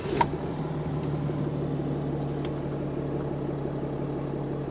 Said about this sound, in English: gonna start the truck.